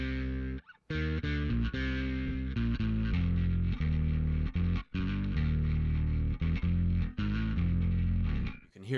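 Distorted electric bass run through a Line 6 Helix with a blended sub-octave synth, a thick buzzing tone with a deep low undertone playing a continuous line of notes with brief gaps, loud and alone.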